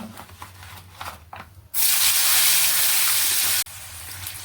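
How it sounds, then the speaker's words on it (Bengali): A handful of peanuts tipped into hot oil left from frying eggplant set off a sudden loud, bright sizzle lasting about two seconds, cutting off abruptly into a softer background crackle after quieter kitchen handling noises. "এবার এই তেলে অল্প কটা"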